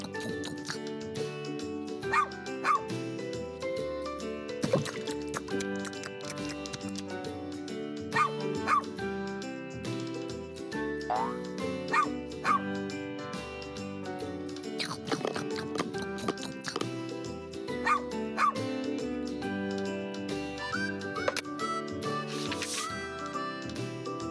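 Cartoon dog in the Arthur Animal Home Builder flash game, giving repeated yips, happy barks and whimpers over a continuous upbeat music loop.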